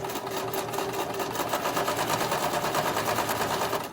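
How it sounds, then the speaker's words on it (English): A sewing machine runs steadily while stitching over a seam on a large reversible tote bag, a continuous rapid mechanical whir with fine rhythmic clatter, close and fairly loud, with no talking. "We're going to go over that seam, making sure our seam allowances are going in the right directions."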